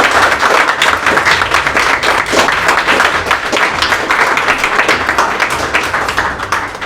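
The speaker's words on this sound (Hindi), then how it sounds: "तो एक बार तालियां तो बनती है" Sustained applause from an audience at a JEE Main 2022 results celebration, dense steady clapping filling the whole stretch at close range, loud and even without breaks.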